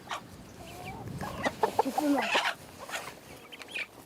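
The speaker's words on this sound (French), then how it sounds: "c'est ma poule" A farm hen named Roussette clucks in short, soft bursts close by, with a brief spoken voice mixed in among the calls.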